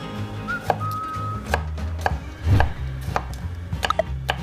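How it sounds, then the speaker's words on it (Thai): A knife finely chops garlic on a board in quick, uneven bursts, fairly close, with a faint whistle in the background. "ต่อมาเราก็มาสับกระเทียมให้ละเอียดกันนะคะ"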